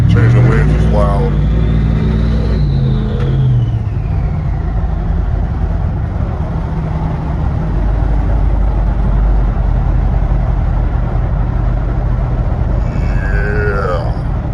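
A fake diesel truck rumbles loudly and steadily while changing lanes, a low engine drone with a rising whine running through it; people talk over the noise.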